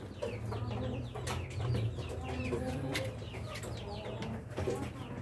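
Rhode Island Red breeder hens in a cage cluck close by, a busy overlapping chorus of short calls with scattered sharper squawks over a steady farm background.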